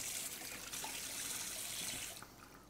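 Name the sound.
rinsing hands under running tap water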